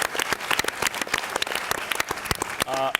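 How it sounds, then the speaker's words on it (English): Audience applause at a film Q&A event, a dense steady clapping from a crowd that fills the clip at even loudness, with a brief tonal sound near the end. "let's have a round of applause for both Malik and Stefano's amazing visual work."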